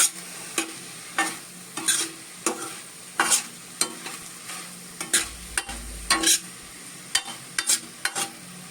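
A spoon scrapes through a vegetable mixture spiced with garam masala in a pan on the stove, with about a dozen distinct, fairly regular stirring strokes close up and a faint sizzle between them, and no talking.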